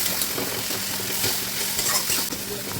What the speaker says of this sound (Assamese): আৰু এয়া মছলাখিনি অলপ ভাজিছোঁ